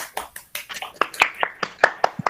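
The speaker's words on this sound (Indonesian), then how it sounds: "Tepuk tangan dulu untuk kita semua." A classroom group claps hands together after a lesson, with a dozen or more sharp, uneven claps, close and fairly loud, tapering off without a steady rhythm.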